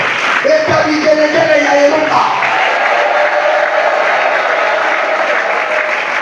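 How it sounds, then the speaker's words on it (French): A church seminar congregation bursts into loud, sustained applause that swells and holds steady, with voices and a sung or spoken line briefly rising over the clapping at the start. "Est-ce qu'on peut acclamer la parole?"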